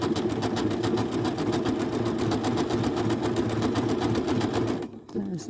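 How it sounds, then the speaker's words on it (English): A Janome sewing machine stitches decorative snowflake patterns, its needle hammering in a fast, even mechanical rhythm up close before stopping abruptly near the end, followed by a brief faint sound. "watching how these machines work and stitch the patterns out"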